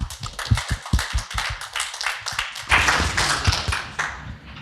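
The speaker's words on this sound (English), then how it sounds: "Round of applause, please" An audience at a talk on virtual tourism in Mali claps, starting with scattered individual claps that build into denser, sustained applause before tapering off.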